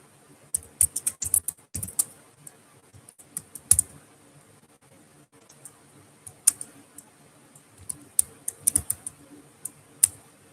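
Quick bursts of clicky keystrokes on a computer keyboard, close and fairly quiet, arrive in irregular clusters with short pauses between them.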